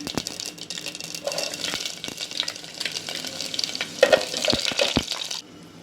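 Garlic hitting hot oil in a home kitchen pan while making batata vada, a steady bright sizzle with some stirring and scraping taps, fairly close, with no talking.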